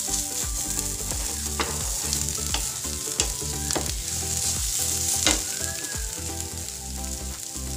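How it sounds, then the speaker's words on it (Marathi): Barnyard millet (bhagar) is roasted in a pan with a continuous close sizzle and crackle, broken by repeated scraping stirs and the occasional clink of the utensil. "हे बघा आता छान परतून घेतली भगर."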